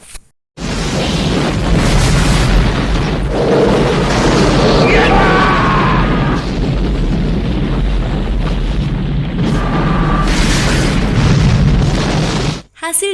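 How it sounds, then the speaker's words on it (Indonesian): A loud, sustained rumbling blast from the plane explosion in the film Die Hard 2 roars and crackles for about twelve seconds, ending abruptly. "Api merambat hingga bagian tangki dan membuat pesawat itu meledak saat itu juga."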